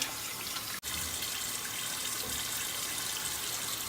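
A towel being rinsed under a running faucet in a sink, with a steady, close rush of water that continues throughout and breaks only for one very brief instant.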